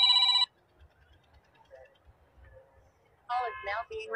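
A telephone rings with a loud electronic tone at the start and again near the end, separated by a quiet pause.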